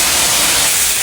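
Boiling water poured into a hot wok for a stew of small wild river fish and wormwood sprouts cooked outdoors: an intense, continuous hiss of steam, loud and close, with no voices.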